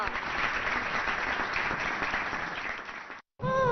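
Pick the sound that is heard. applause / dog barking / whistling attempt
applause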